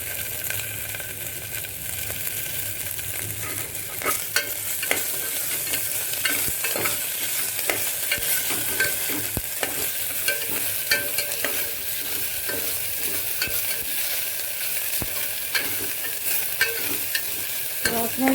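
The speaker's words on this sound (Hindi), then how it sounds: "तो अब मैं इसमें डाल रही हूँ अदरक और इसकी रोशनी जाने तक हम इसे भूनेंगे।" Onion and ginger fry in a pan for spinach khichdi, a steady soft sizzle broken by repeated scraping clicks of a spoon stirring, close and continuous with no talking.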